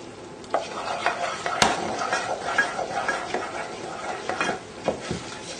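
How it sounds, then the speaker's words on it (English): A flour and milk sauce bubbling in a pan while being stirred, with steady soft scraping and bubbling at close range and a few sharp clinks of utensil against the pan. "should be nicely bubbling away, so just keep stirring it"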